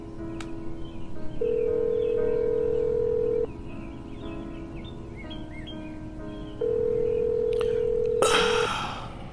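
Telephone handset with a steady dial tone, two long sustained tone bursts separated by a quieter stretch, then a brief clatter of handling at the end, close and clear with no talk.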